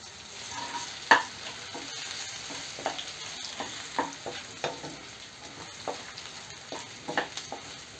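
Chili powder frying on a low flame for a dry fish curry, a steady soft sizzle broken by repeated stirring scrapes and spoon taps, close and clear, with no voices.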